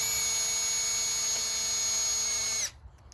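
A power drill runs at a constant high whine for a few seconds while drilling out a fitting on a 2014 Hobie Outback kayak seat, then cuts off abruptly, leaving near silence.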